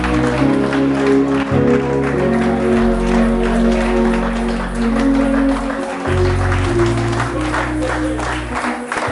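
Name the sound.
church congregation applauding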